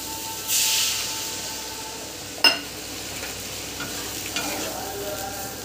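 Water poured into a pan of stir-fried pointed gourd leaf vegetables, giving a brief hissing burst and a sharp splash-like sizzle over a steady background frying crackle, with no voices.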